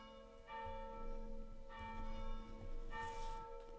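Church bells ringing at service time, three distinct peals with long sustained ringing tones between them, fairly faint and distant over a quiet background.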